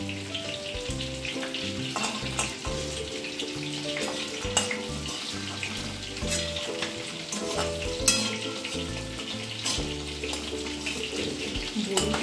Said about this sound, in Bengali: এবার এই বড়িগুলো ভেজে তুলে নেবো।